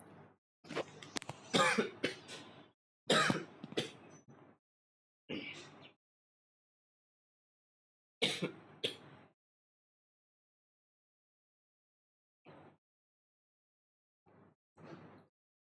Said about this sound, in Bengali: দুঃখিত একটু কাশি শুরু হয়ে গেছিল